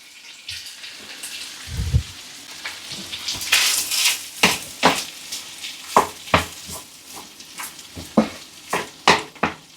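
Corned beef and tinned potatoes fry in a hot pan with a steady sizzle, broken by repeated sharp scrapes and clacks of a utensil stirring against the metal, close and fairly loud.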